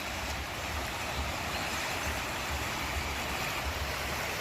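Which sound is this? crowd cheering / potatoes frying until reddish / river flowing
river flowing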